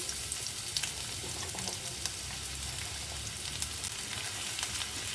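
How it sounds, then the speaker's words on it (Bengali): Chopped onions sizzle in hot oil in a pan while an Afghan egg curry is being made, a steady dense crackle with scattered pops that holds even and close for about five seconds, no voices. "এবার তেল গরম হয়ে গেছে। এবার এর মধ্যে আমি দিয়ে দেবো ঠিক যেই 3টে সাইজ পেঁয়াজ আমি কেটে রেখেছিলাম"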